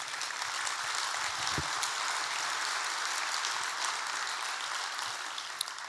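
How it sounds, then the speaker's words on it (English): A seated audience at a business talk on social media claps along, an even, continuous crackle of many hands at moderate loudness with one sharp knock near the start and no speech over it. "You can clap on that one, sir."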